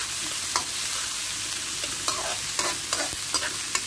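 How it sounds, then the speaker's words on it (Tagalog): Ginger sizzles in a frying pan, with a spatula scraping and stirring every half second or so, close and fairly quiet and with no voices. "sinunod ko yung luya. Yan, halo-haloin ng ganyan guys"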